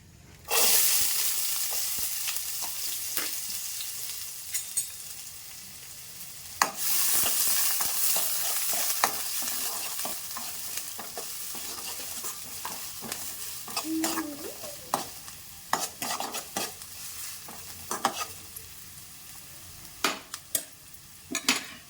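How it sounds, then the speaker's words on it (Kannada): Onion goes into hot oil for quick veg fried rice, a loud burst of sizzling followed by steady frying with repeated scraping stirs and clinks of a spatula, close and continuous without talk. "ಸ್ವಲ್ಪ ಆಯಿಲ್ ಬಿಸಿ ಆದಮೇಲೆ ಈರುಳ್ಳಿ ಹಾಕ್ಕೊತೀನಿ."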